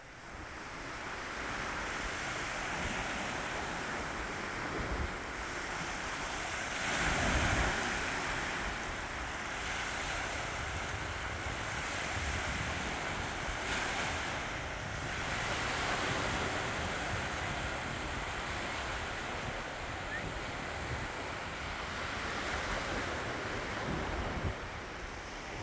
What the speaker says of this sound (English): A short video of the beach from east to west